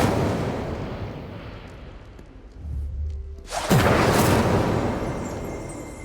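A fiery Incendio spell cast in Hogwarts Legacy, a fading rumble followed by a sudden loud whooshing burst of flame that roars on and slowly tails off.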